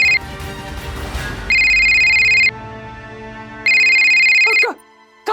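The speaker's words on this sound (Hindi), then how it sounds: "कमल का फोन है" A telephone ringtone sounds in two loud, steady electronic bursts separated by a short pause, with a voice speaking briefly underneath before the ringing starts.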